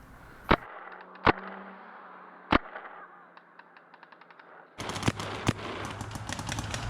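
Paintball marker shots ring out during a scenario paintball game in Hollywood, Florida, first as a few sharp, separate cracks, then as rapid bursts of fire that grow denser and louder near the end.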